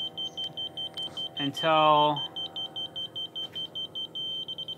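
A laser level receiver near the level line gives rapid, evenly spaced high electronic beeps that run throughout, close by, while someone speaks briefly over them.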